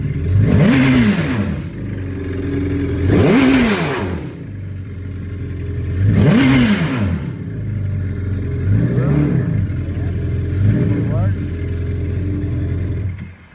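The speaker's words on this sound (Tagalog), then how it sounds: "gumagana na, nag-aandar na, tapos malakas na ang revolution" A supercharged Yamaha GP1800 jet ski engine idles and revs in repeated surging bursts, loud and close, with a voice talking over it.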